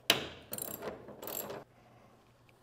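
A socket wrench with a 12 mm socket ratchets out a bolt under a car hood, giving three short bursts of clicking near the mic with brief pauses between them and no talk.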